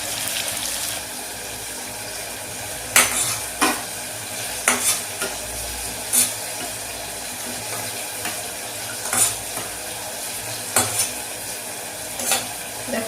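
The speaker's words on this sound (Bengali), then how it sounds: "আমার ডিমটা সুন্দর ফ্রাই হয়ে গেছে লাল লাল করে" Eggs fry in oil in a kadai, a continuous sizzle broken by repeated sharp scraping clacks of a spatula stirring or turning them at irregular intervals; no talking.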